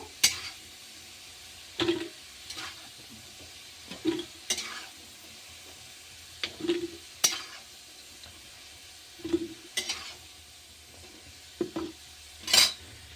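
Onions and cumin seeds frying in oil for a pea and potato curry, with a steady soft sizzle broken by repeated scraping stirs of a spatula against the pan, about every two seconds. No one speaks.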